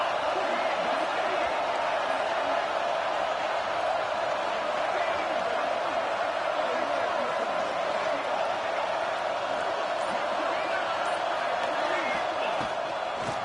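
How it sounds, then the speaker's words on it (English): A college football stadium crowd roars in a dense, continuous wash of cheering and murmur, loud and steady throughout, with no break or peak. "This crowd ready to make its presence known."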